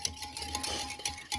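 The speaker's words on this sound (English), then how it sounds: "So I'll whisk." A whisk beats a mixture in a bowl for cinnamon Texas toast, a brief run of quick, faint clinking strokes up close.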